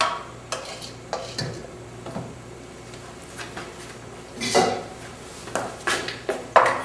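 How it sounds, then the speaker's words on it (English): Macaroni shells being stirred into cheese sauce in a pot, giving repeated wet scrapes and knocks of a spoon against the pot at an uneven pace, close and fairly quiet, with no talking. "We're going to just mix it right into our cheese sauce."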